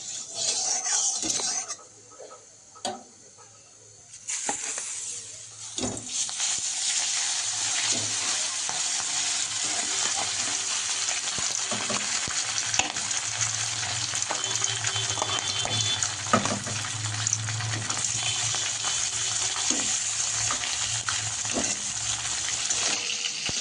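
Tilapia fish pieces fry in hot oil, a continuous close sizzling hiss that briefly drops out near the start, then runs steadily with occasional clinks and stirring scrapes.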